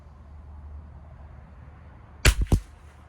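A Savage MKII BTV rifle fires CCI SV ammunition at a 50-yard range, two sharp close cracks in quick succession after a quiet stretch.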